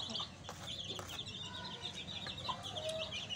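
A Pakistani Aseel hen from Kamalia clucks in repeated short bursts, close and fairly clear, over a low rustling background with other farm birds.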